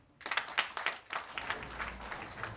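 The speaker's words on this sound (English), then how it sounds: "clap for yourself" An audience clapping at a motivational distributor gathering in Uganda, a short burst of scattered, uneven claps that is moderately loud and close with a slightly irregular rhythm.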